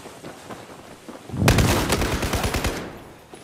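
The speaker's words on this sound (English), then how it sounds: "This asshole has a shotgun." Shotgun fire in the shooter game Battlefield 2042 starts with a sudden loud blast, then a rapid burst of close shots rattles for about a second and a half before fading.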